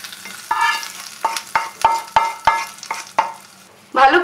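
Hot tempering spices poured and stirred into coconut chutney, a run of about eight sharp, rhythmic scraping strokes against the bowl, then a sudden loud sizzling burst at the end.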